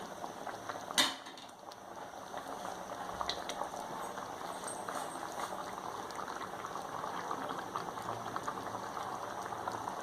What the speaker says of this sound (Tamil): பன்னீர் இந்த கிரேவி நல்லா அப்சர்வ் ஆகிற வரைக்கும் இன்னும் கொஞ்சம் நேரம் கொதிக்க விடலாம்.